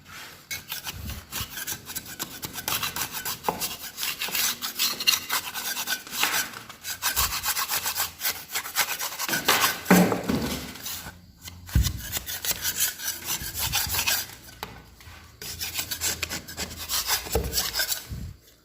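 Old, damaged paint being scraped off a rendered wall, a steady rasping scrape in repeated close strokes with brief pauses, loud and continuous without talk.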